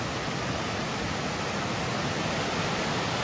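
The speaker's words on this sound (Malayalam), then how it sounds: "ഇവിടെ നമുക്ക് ഇത്തിരി സ്ട്രോങ് ആയിട്ടുള്ള ഒരു വെള്ളച്ചാട്ടം കാണാം" A strong forest waterfall at Ilaveezhapoonchira pours out in a steady, dense roar of rushing water that stays loud and unbroken throughout, with no voices.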